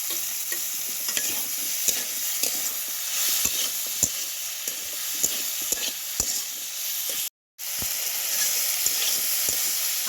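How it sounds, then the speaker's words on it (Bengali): Chopped apple pieces sizzle in hot oil with fried green chili for an apple pickle, a steady close crackle broken by repeated scraping stirs and one short break in the middle. "আপেলের তেলের মধ্যে দিয়ে কিছুক্ষণ আবারও ভেজে নিলাম"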